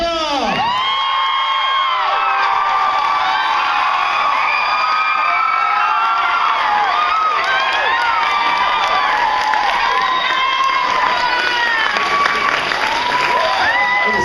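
A large crowd of children and adults at a school cheers, whoops and shouts loudly and continuously, with high excited screams throughout.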